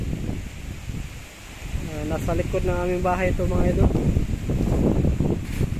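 Strong habagat monsoon wind blowing hard behind a house, a continuous roaring rush with low microphone buffeting, while someone talks over it in the middle.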